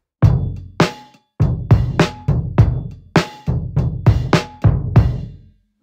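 A drum kit recorded only with iPhones plays a short groove, punchy kick and snare hits with cymbal accents in a steady rhythm, dry and close, then stops.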